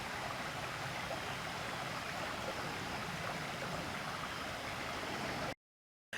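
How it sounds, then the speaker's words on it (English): A calm stream in a nature preserve flows steadily over rocks, giving a constant soft rushing wash that stops abruptly near the end. "this is a relatively stable stream"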